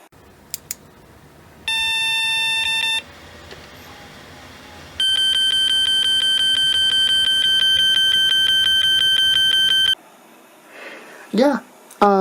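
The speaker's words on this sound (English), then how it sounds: "those two beeps are long, short means no video card detected" Two loud electronic motherboard POST error beeps from a computer, signalling no video card detected, a short tone followed by a long steady one, close and piercing, then a voice starts speaking.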